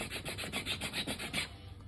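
A file rasps along a sharp edge on an aluminum tubing light pole for a slot car track, in about nine even rhythmic strokes, close up, then stops.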